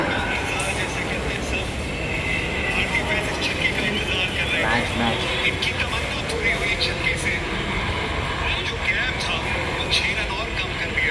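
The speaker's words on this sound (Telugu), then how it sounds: "ట్రైన్ తొందరగా వచ్చింది." A train pulls into a railway station with a continuous loud rumble and clatter. Voices talk over it throughout.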